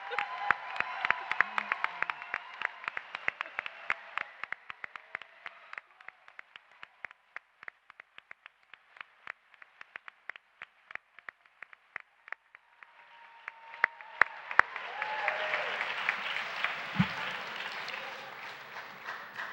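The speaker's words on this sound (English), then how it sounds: "Shall we applaud one more time?" Audience applause at a university commencement ceremony: a long run of dense clapping from a large crowd that thins out, then a fresh swell of applause and cheering near the end.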